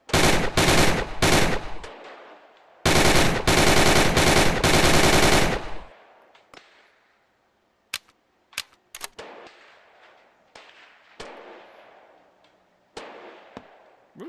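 A grease gun firing in the VR shooting game Gun Club VR: two loud, rapid full-auto bursts, then scattered single clicks and clacks of handling the weapon, alone with no talk.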